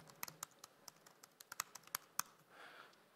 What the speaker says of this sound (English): this is the part where I can't talk and type very well